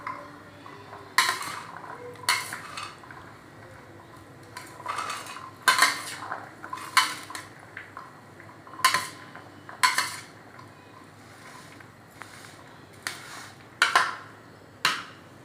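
A metal spoon stirs chana chaat ingredients in a bowl, giving a series of sharp clinks and scrapes in irregular bursts, some clusters close together, separated by quieter gaps.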